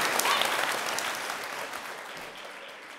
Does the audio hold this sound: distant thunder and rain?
no